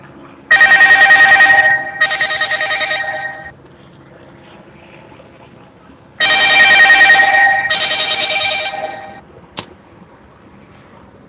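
A telephone rings during a live street broadcast, in two long bursts of bright repeated ringing separated by a pause, loud and close, with brief clinks afterward.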